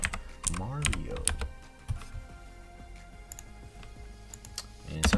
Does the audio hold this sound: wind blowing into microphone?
no